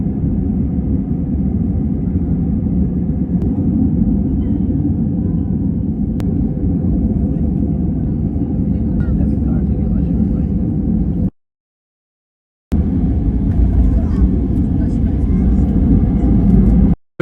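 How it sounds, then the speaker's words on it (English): Heavy wind rumble buffets an airplane in flight, a loud continuous low roar with a brief cutout, close and steady throughout. "There's no better combination than wind and a plane."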